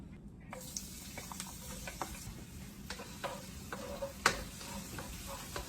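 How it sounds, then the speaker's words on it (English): Garlic sautéing in a pan for pancit palabok, a quiet steady sizzle with scattered small clicks and taps of a utensil against the pan, heard alone without talk. "Let's saute our garlic."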